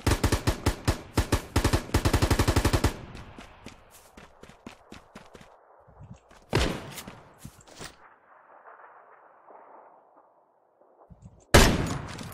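Gunfire in the battle royale game Knives Out: a rapid automatic burst of close, loud shots, then scattered single shots, a faint engine drone, and two more loud blasts later, with no talking.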